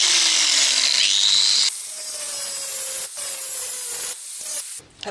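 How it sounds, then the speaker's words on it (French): A grinder grinds off weld spots on an old Citroën Traction 11 B chassis, a harsh continuous grinding with pitch shifts and brief breaks as the disc is lifted and reapplied, close and loud. "Je vais meuler les points de soudure."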